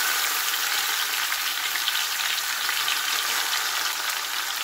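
Chicken frying in a pan with oil, a steady loud close sizzle of dense crackle that holds without a break or any talk.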